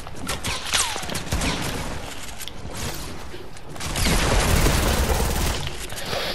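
Video game gunfire, rapid shots and bursts ringing out repeatedly at close range, growing louder and denser toward the end, with a voice talking briefly over it.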